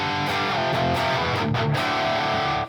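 High-gain electric guitar played through a PRS MT100 amplifier, a dense distorted chord riff with sustained harmonic-rich tone and a few rhythmic chops, loud and close, ending in a quick cutoff.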